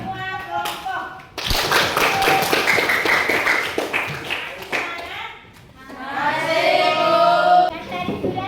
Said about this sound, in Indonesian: kita tepuk tangan dulu untuk semua kelompok.